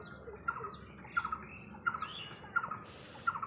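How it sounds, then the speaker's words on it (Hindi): A trapped pigeon, a young one caught in a tight spot, calls out in short squawking bursts roughly every second, fairly close and clear over a low background hum. "देखो कबूतर यार फंस गया यहाँ पर।"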